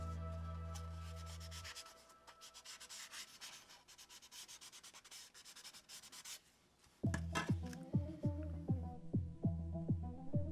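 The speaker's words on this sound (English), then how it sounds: "Continue this sanding process around the entire body." Fine scratchy rubbing of sandpaper on a plastic model car body, soft and steady, later joined by a louder rhythmic series of strokes.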